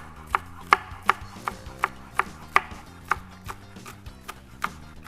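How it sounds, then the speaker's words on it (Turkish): Green onions finely sliced with a knife on a cutting board, about a dozen crisp, evenly spaced chops in a steady rhythm, close and clear with no talking. "Bunları incecik doğruyorum."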